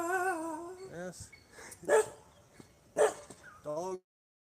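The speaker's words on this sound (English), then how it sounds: "Dogs on the roof." Dogs guarding a rooftop along the Wellawaya road toward Ella bark and yip in a few loud, separate outbursts with whining tones between, close by, ending abruptly.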